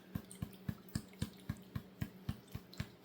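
A gold pan holding water and black sand is banged by hand about a dozen times in an even, quick rhythm, each knock a short, faint, wet thud with a slight slosh.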